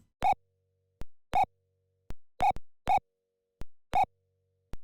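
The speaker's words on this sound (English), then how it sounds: "So this is actually a triangle wave." Short synthesized triangle-wave blips made in the BFXR sound-effect tool, in the style of NES game audio, repeat about once a second as clean, soft, hollow tones, each starting sharply and dying away quickly, with silence between and no voices.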